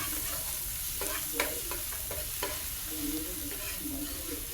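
Ginger, garlic and chilli paste sautéing in oil in a frying pan, a close steady sizzle broken by several sharp spatula scrapes and taps as it is stirred.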